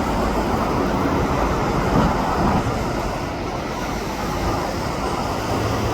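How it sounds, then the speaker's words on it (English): A westbound SkyTrain passes an overpass with a loud, steady broadband rumble and rush that holds throughout, swelling slightly in the first half, with no voices. "Westbound train now."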